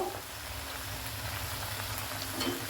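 Coriander stems and onion frying in mustard oil for a spinach and coriander chicken gravy, giving a steady, fairly quiet crackling sizzle with no voices.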